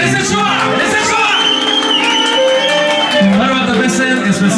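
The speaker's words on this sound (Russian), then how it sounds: "И искаме аплодисменти за тях." Guests at an engagement celebration cheer and whoop loudly for the couple, a dense, close crowd roar with shouts running continuously alongside music and voices.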